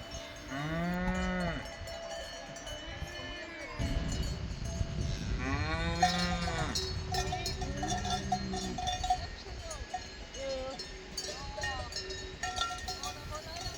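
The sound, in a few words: cows approaching in an alpine meadow with cowbells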